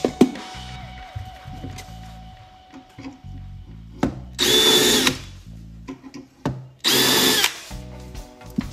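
A power drill whirs in two brief bursts, boring a shallow hole about 1/16 inch deep into a wooden drawer front through a jig, with quiet handling clicks and low rumbling between them, close up.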